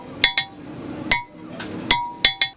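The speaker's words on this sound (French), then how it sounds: "le façonnage commence à coups de marteau sur l'enclume" A smith's hammer rings on iron over an anvil during forging, six sharp metallic strikes in an uneven rhythm, close and bright, each ring fading quickly into quiet room noise.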